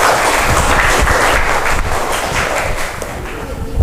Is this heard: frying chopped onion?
no